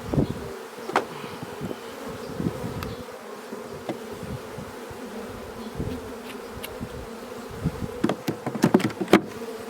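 A honeybee swarm buzzes around a hive, a dense, steady hum of many bees close by, with occasional knocks and clatters of hive frames being handled.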